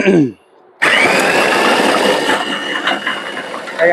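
A Niyam 6-in-1 food processor peels dry garlic, whirring loud and continuous after a brief pause, its steady motor grind mixed with garlic rattling inside the bowl.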